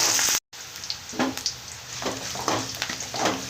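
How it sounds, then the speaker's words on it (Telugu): Green chillies and curry leaves fry in hot oil for rice rava upma, giving a loud close sizzle with bursts of crackling and stirring scrapes after a brief cut near the start. "సన్న మిరపకాయలు పోసి వేసుకున్నానండి కరివేపాకు ఇది కొద్దిగా యాగనిద్దాం"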